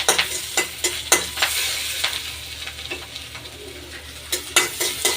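Egg and potato curry cooks in mustard oil, a spatula clattering sharply against the pan in quick bursts of stirring over a continuous close sizzle.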